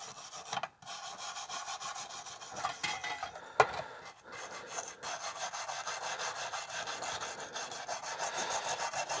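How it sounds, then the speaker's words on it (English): A brush scrubs rusty parts of a Coleman double mantle lantern in a rhythmic, rasping back-and-forth, close and fairly quiet, with a brief clack midway and no talk. "going to get the brush in here right off the bat."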